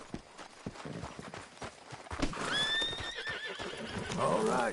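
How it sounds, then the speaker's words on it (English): A horse in the Red Dead Redemption video game whinnies loudly in a high, wavering neigh midway through, with a second shorter whinny near the end, over steady clip-clop of hooves and ambient game noise. "Horse."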